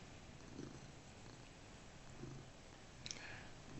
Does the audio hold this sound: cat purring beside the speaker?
yes